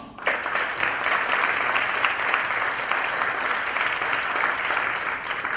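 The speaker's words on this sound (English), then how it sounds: "Let's give a rousing round of applause to Mr. Philip Jones" Applause from the audience at a high school National Honor Society induction ceremony, dense and steady for several seconds, loud and fairly close, with no one speaking over it.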